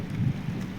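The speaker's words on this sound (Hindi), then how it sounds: "बारिश बहुत तेज से लगने लग गई है" Heavy monsoon rain with thunder in Himachal, a dense steady low rumble and wash of falling water, continuous and fairly loud with no voices.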